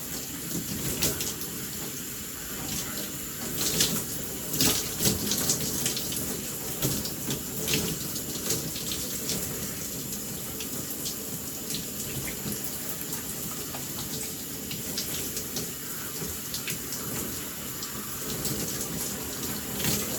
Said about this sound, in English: now I'm going to go ahead and rinse this out